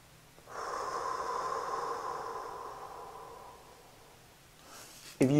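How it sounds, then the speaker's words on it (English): A person draws one long, deep diaphragm breath in through the nose, a steady airy hiss lasting several seconds that slowly fades, followed by a brief sharp exhale at the end. "you breathe in and imagine everything not only coming out to the front, but coming out this way as you breathe in"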